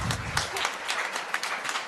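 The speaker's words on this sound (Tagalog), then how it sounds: "Pamalakpak ng malakas." Congregation at a church homily breaks into brief, loud clapping, a dense steady patter of many hands throughout a short burst.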